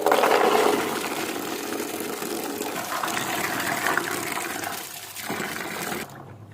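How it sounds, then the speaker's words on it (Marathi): Peanut pods being washed of soil in clean water, a steady loud gushing and sloshing of water that eases off briefly near the end, with no talking. "त्याच्यामुळे स्वच्छ पाण्याने धुवून घेणार आहे मी."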